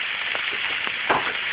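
Onions, thyme and jalapeno fry in oil in a pan, making a continuous close sizzle with scattered pops and a soft stirring scrape, alone and without talk.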